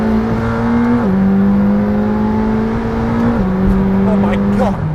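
A McLaren Senna supercar's engine drones loud and close behind the cabin, its steady tone stepping down and holding through two gear-like shifts, with a rising whine near the end.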